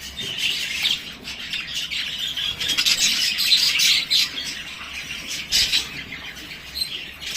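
Spangle budgerigars in an aviary keep up a dense, loud chatter of chirps and squawks, close and continuous, with a few sharper calls standing out.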